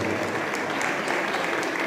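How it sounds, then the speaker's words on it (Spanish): Sustained applause from family and friends at a certificate award ceremony, a dense even clatter of many hands clapping at steady loudness throughout. "el aplauso de sus familiares y amigos"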